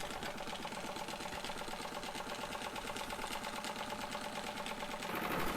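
A small model steam engine runs steadily, a fast, even mechanical chuffing and clatter close by, continuing without pause and growing slightly louder at the end.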